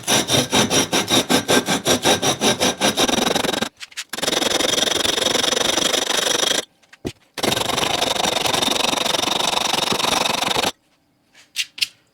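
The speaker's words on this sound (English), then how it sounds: "let's throw it out on the desk and see if we can sand that off." The flange of an aluminum 2JZ intake manifold is sanded on a desk with sandpaper: first a rapid rhythmic back-and-forth scrubbing, then long continuous loud rasping strokes broken by brief pauses.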